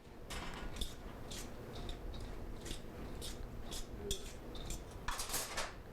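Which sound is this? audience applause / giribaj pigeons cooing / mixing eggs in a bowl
mixing eggs in a bowl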